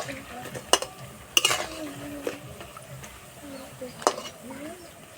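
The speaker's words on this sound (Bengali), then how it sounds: "হালকা বাদামি কালার করে ভেজে নেব।" Potato and cauliflower pakoras frying in oil, a soft steady sizzle with a few sharp clinks of a utensil against the pan, while a voice talks over it.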